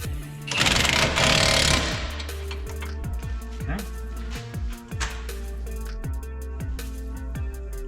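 A pneumatic impact wrench hammers wheel bearing mounting bolts tight during a front-end repair, with one loud sustained rattling burst followed by a run of short, rhythmic clicks and knocks.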